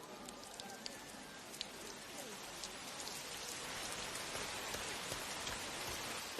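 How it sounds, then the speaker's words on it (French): Rain patters steadily on surfaces nearby, a dense hiss of drops that thickens slightly as it goes on. "Oh, il pleut."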